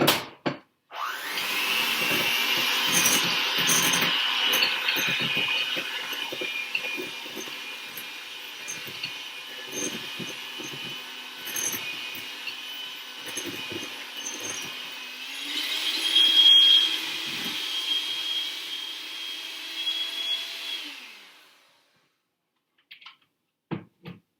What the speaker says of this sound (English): Now I'm going to take it over here and beat it up with my mixer.